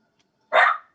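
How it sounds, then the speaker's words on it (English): A single short, loud bark from a pet dog in a home setting, one sharp burst heard close by with silence around it. "that's my dog."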